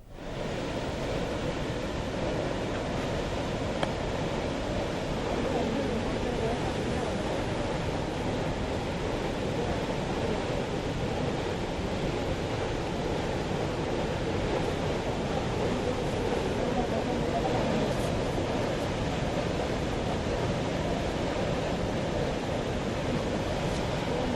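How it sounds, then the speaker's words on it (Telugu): Pumps lift water into a surge pool during the Kaleshwaram project wet-run test in Package 6, giving a steady, loud, unbroken rushing roar that holds evenly for the whole stretch. "సర్జిపుల్లో నీటిని పంపుల ద్వారా ఎత్తిపోసి పరీక్షలు చేస్తున్నారు."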